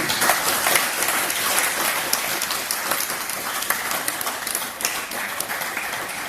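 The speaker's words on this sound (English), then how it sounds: "So can we give a big round of applause to" A supporters' club meeting audience gives a big round of applause for a youth academy guest, loud, dense and continuous clapping filling the room from start to finish with no talk over it.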